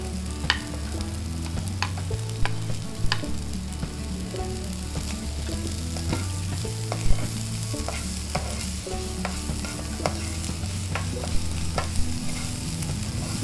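Camaru, mole crickets, fry in a pan with a constant close sizzle while a utensil stirs them, scraping and tapping against the metal in an irregular rhythm, with no talking.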